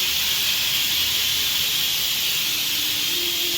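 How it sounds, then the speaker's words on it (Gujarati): A pressure cooker whistle releasing steam in a continuous loud hiss, steady from start to finish, with a faint tonal whine creeping in near the end and no talking. "અરે કુકરની સીટી વાગી ગઈ"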